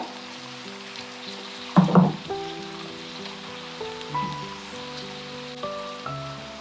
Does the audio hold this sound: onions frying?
yes